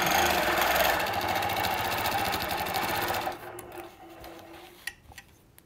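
Sewing machine stitching a scrolling quilted border, a fast steady mechanical whir and rapid needle hum for about three seconds, then stopping, followed by faint handling clicks and rustles.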